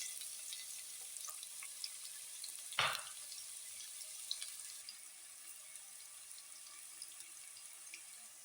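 Chopped onion frying in hot oil in a pot for a macaroni dish gives a steady, soft sizzling hiss throughout, with a single dull clunk early on.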